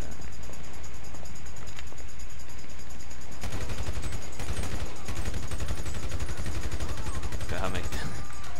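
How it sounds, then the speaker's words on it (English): Loud, dense video game gunfire bursts in partway through and keeps going as a sustained stream of rapid shots over a steady game background. "I'm shooting this guy."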